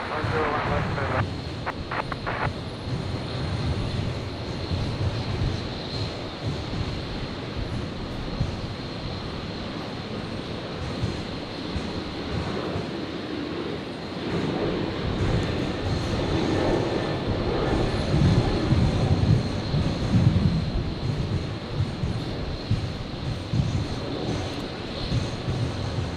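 Jet airliner landing at Brisbane Airport on runway 01 left, a broad steady engine roar that swells toward the end, heard from a distance with air traffic control radio talk over it.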